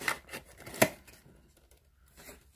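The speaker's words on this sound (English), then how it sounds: "I'm gonna cut open so I can now unbox this." Scissors or a blade cutting through a Phatmojo Bendy and the Ink Machine minifigure pack: a few short, close snips and tearing scrapes, the sharpest cut landing near the middle, with no talking.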